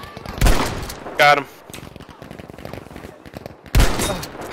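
Booming blasts from an M1897 shotgun firing slug shells in Battlefield V, three loud close shots spaced a few seconds apart amid lighter game clatter, with a voice speaking briefly between them.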